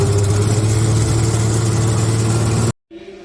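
A mobile vacuum tanker's engine runs with a steady, loud mechanical drone and a strong low hum for nearly three seconds, then cuts out abruptly before a faint rumble returns.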